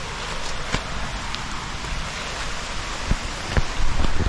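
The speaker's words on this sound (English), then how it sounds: "This is called King's Waterfall." King's Waterfall in Tobago rushes with a steady broadband roar of falling water, close and continuous, with a few brief splashes or knocks near the end.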